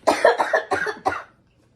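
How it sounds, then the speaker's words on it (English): A series of four harsh coughs in quick succession, close and loud, a lingering cough after COVID, then silence. "I just have a lingering cough."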